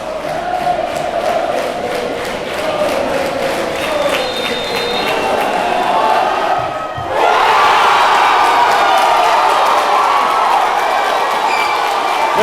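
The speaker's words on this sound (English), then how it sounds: "The crowd goes wild." A crowd at a Washington State 4A high school soccer championship, Bellarmine Prep against Skyline, roars continuously, then surges louder midway into wild cheering and shouting.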